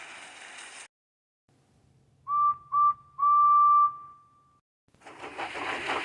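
A steam engine whistle sounds in three blasts, two short toots and then a longer one that trails off, clear and alone between stretches of hiss.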